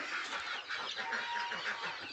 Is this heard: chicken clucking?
yes